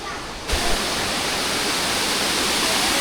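A flowing river rushes past the Dhutpapeshwar temple at Rajapur in Konkan. After a brief quieter moment at the start, the water becomes a constant, full, broadband roar that stays loud and unbroken.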